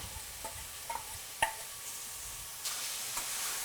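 A quiet, steady sizzle of shallots and blanched, cut green beans sautéing in oil, broken by a few faint clicks and scrapes of a utensil in the pan.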